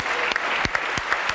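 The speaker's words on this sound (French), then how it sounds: "Applaudissements des jeunes gens qui sont ici." Applause from a young studio audience on a French television talk show, a steady close burst of many hands clapping with no talk over it.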